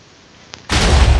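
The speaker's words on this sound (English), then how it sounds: "This is how you do fireworks in Minecraft." A single loud TNT blast in the video game Minecraft, used as a firework, bursts abruptly after a faint tick and then roars on as a sustained, near, booming rumble with no talk over it.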